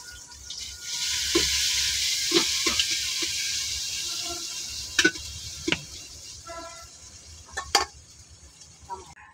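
Onions, green chilies and ginger fry in a pan with a steady broadband sizzle, broken by a few sharp clicks and scrapes of stirring, close and moderately loud with no talking.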